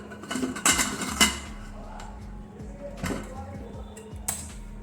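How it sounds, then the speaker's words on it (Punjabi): A pressure cooker lid being closed in a home kitchen while cooking lobia dal, with several metallic clanks and clinks up close as someone talks over them. "ਤੇ ਕੁੱਕਰ ਨੂੰ ਕਰ ਦਵਾਂਗੇ ਬੰਦ"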